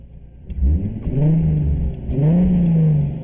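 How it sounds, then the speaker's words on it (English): A turbocharged Toyota Supra MK4 engine revs up twice in close succession, each rise climbing to a loud, sustained drone before easing back, heard near and alone without talk. "There you go, there's your revs."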